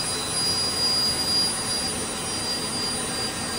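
A jet engine fitted to a Camaro car runs with a steady, loud broadband roar and a faint high whine, holding constant without breaks and with no voices.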